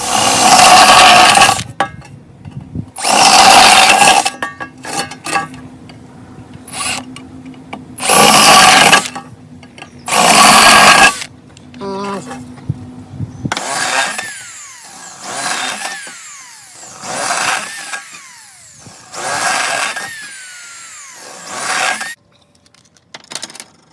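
A power drill bores 3/4 inch holes through metal in repeated loud bursts, each run whining up and stopping, with short pauses between holes.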